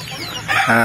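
Chickens cluck briefly and close by in a semi-free-range pen, a couple of quick clucks and squawks with farmyard noise in the background.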